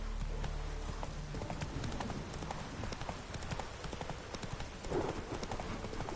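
The horse Roach gallops in The Witcher 3, with rapid rhythmic hoofbeats close and steady throughout over a dense background rumble.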